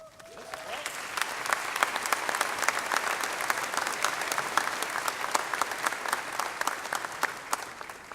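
An audience at a college spring commencement applauds steadily, a dense wash of many hands clapping that holds at an even level throughout.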